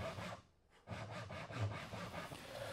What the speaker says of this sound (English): I'm gonna go through and saw all these down with the handsaw